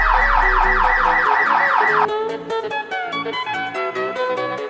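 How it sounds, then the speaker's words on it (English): A security alarm wails in a fast, loud, rising-and-falling electronic siren for about two seconds, then gives way to a quieter run of beeping electronic tones. "Beep. The alarm."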